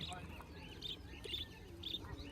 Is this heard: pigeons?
yes